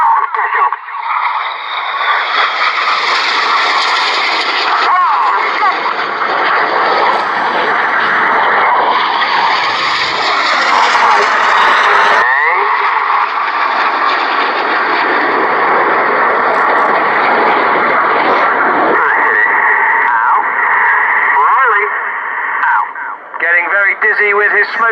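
Red Arrows jets flying a display at Cosford Air Show 2015, a continuous loud roar of jet engines that swells and fades over a steady noise bed while a commentator speaks over a public address.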